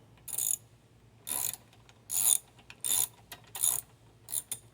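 A ratchet wrench loosens the 10mm carburetor bolts on a Craftsman lawn mower, giving about seven short bursts of rapid close clicking separated by brief pauses.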